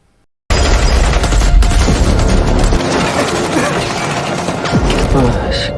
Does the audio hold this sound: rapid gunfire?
yes